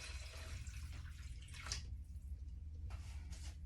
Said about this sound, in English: I think I will add about a cup of water into that.